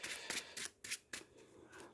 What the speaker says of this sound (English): so let's shuffle these up.